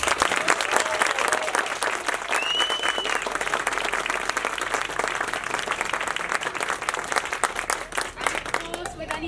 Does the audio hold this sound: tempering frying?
no